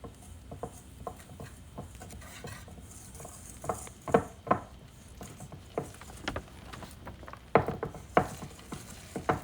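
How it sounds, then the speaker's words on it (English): Whisk beating an egg and vanilla extract into donut batter in a bowl: irregular light clinks and taps with soft wet swishing, close by and fairly quiet, a few strokes landing louder than the rest. "And whisk till not lumpy."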